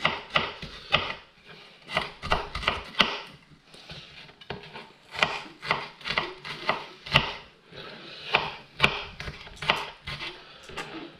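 A knife dicing onion on a chopping board for a mild butter chicken curry, rapid close-up chops in quick irregular bursts with short pauses between runs, crisp and steady throughout.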